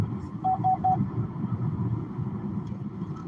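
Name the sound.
road traffic passing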